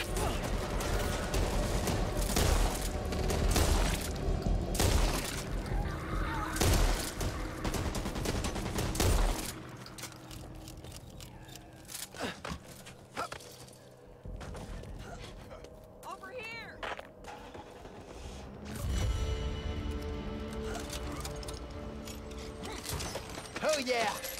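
Shotgun blasts and reload clicks in the zombie shooter Back 4 Blood, loud bursts of gunfire early on, then quieter mechanical handling sounds and scattered shots, with voices talking over the action.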